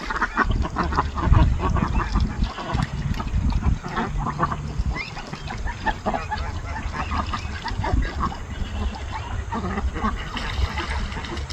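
Ducks and geese in a barnyard honk and quack in a busy, overlapping chorus, nearby and fairly loud, with some voices talking among the birds.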